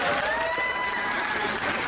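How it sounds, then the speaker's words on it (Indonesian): An audience at an official Kota Malang civic gathering claps together in a short, steady burst of applause that stays even in loudness throughout. "Tepuk tangan."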